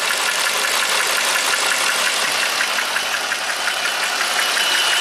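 A 2019 Jeep Rubicon's Pentastar V6 runs with a misfire at 71k miles, a close, loud, steady engine clatter with a rapid repeating ticking pulse throughout, no voices.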